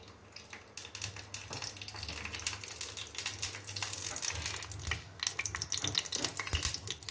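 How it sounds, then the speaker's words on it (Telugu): Tempering seeds and dried red chillies frying in oil for a tamarind stew, making a dense continuous crackle and sputter close by, with faint utensil clatter. "ఇదిగోండి మనకి తాలింపు వేగిపోయింది."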